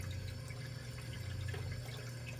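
Water returns through the plumbing of a 150-gallon reef aquarium sump, a steady, faint rushing trickle with a low hum beneath it, continuous and even throughout.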